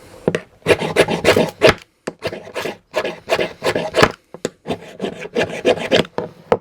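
Cold Steel Kiridashi knife spine scraped against a striker to throw sparks, a series of about ten rough, rasping strokes in an uneven rhythm, close and loud with short pauses between.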